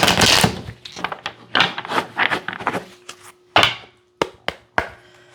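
Tarot cards being shuffled by hand, a series of sharp riffling and tapping bursts, some rapid and clustered, others single and spaced out, close and fairly loud with no talk.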